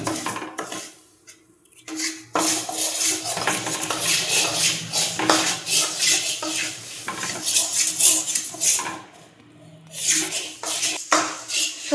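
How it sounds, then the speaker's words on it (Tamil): Moong dal roasting in a pan on the stove, stirred with a metal spoon that scrapes and clinks steadily against the pan; brief pauses near the start and end, no talk. "இப்போ ஸ்டவ் ஆன் பண்ணிட்டு அதில் பாசிப்பருப்பு போட்டு வறுத்துக்கலாம்"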